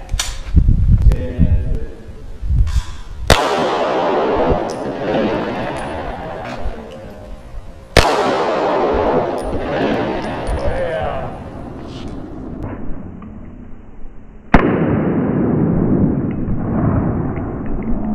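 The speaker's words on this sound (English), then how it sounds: "So we're gonna reset this, and then we're gonna shoot the 9mm." A 9mm handgun fires through ten drywall panels into ballistics gelatin: three loud, sharp reports several seconds apart, each with a long ringing decay, after a short stretch of muffled low noise at the start.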